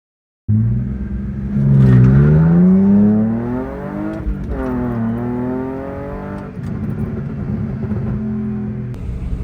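A BMW E46 with a ZF 6-speed gearbox driving, its engine rising in pitch under acceleration, easing through a shift, then pulling up again in a loud, steady drone heard from inside.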